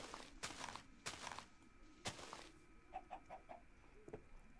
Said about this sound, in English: Yeah, these chickens are just downright annoying.